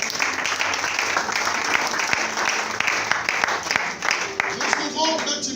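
A church congregation bursts into sustained applause and clapping to praise the Lord, a dense, loud crowd sound that carries steadily throughout with voices mixed in.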